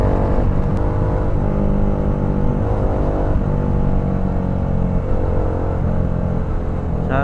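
A Dominar 400 UG2 motorcycle engine on a group breakfast ride in Bulacan, a loud, continuous drone whose pitch rises and falls as the throttle changes, with no talk over it.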